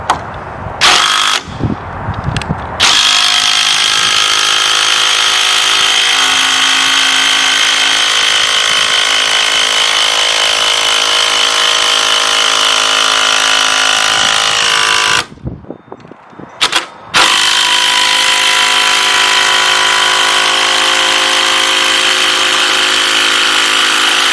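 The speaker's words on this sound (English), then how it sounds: "now we'll drive these screws all the way through into them" A power drill drives long screws through a deck post into wood: a loud, close, sustained whirring drone in two long runs, split by brief pauses and short trigger bursts.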